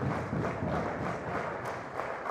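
Crowd applauding at a padel semifinal, a steady dense wash of clapping sustained at moderate volume throughout, with no pauses.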